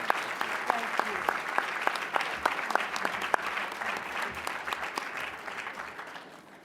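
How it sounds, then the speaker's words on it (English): Audience applause honoring Senator Dianne Feinstein, a sustained crowd of steady clapping with some sharper individual claps standing out, gradually tapering toward the end. "One more big round of applause for Senator Dianne Feinstein."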